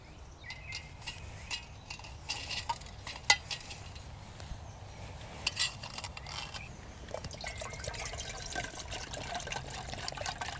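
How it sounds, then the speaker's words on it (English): Kettle being set up for a brew at a woodland camp: metallic clinks and knocks of pots and utensils, light water trickling and handling noises, fairly quiet and close. "It's time to get the kettle on, I think,"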